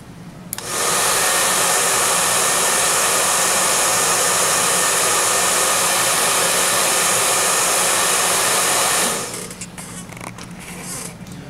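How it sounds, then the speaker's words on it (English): A hair dryer blowing over paint on a scale model armored vehicle during a painting and weathering workshop: one steady, loud, close whoosh that runs about nine seconds before cutting off. "I can come in with the hair dryer now."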